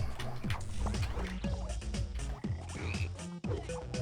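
A frog in the BattleBlock Theater video game croaks repeatedly in a loud, busy stream of rapid, bubbly calls, mixed with other game sound effects and no talking.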